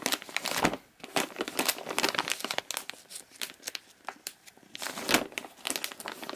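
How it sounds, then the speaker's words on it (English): Close, loud crinkling of a plastic Ziploc-type bag from men's underwear packaging, irregular bursts of crackling and rustling as it is handled, with no talking. "it's got a Ziploc type of bag. So you could keep them in the bag."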